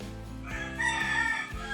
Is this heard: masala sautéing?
no